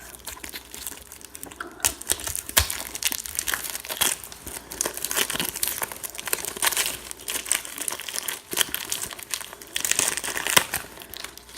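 A giant homemade Starburst candy is unwrapped with continuous loud, close crinkling and rustling of its wrapper, with sharp crackles and tearing bursts throughout and no talking.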